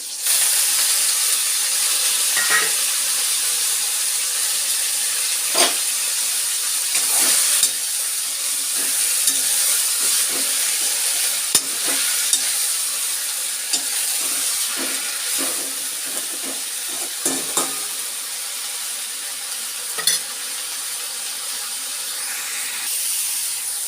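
Coriander leaves fry in a pan with a steady hiss and sizzle, broken by scattered crackles and pops, alone and at close range.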